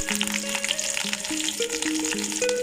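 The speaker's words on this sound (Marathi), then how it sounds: "तेल तापल्यानंतर मोहरी, जिरे, मिरची टाकायची, परत कढीपत्ता," Mustard seeds, cumin, chilli and curry leaves hit hot oil in a kadhai for poha tempering, crackling and sizzling steadily up close with faint popping throughout, while a tonal hum runs underneath.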